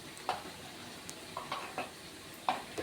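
A spoon stirs fish curry seasoned with turmeric, salt and chili powder in a pan, giving soft scrapes and a few light clinks over a faint sizzle, quiet and close.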